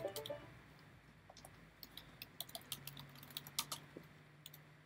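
Someone types a comment on a computer keyboard: soft, scattered key taps that come in short bursts, quiet and close, over a low background hum.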